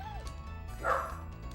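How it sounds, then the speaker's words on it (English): A single short dog bark or yip rings out nearby over a faint background hum, with a brief whine just before it. "Leo, what are you barking at? Stop it"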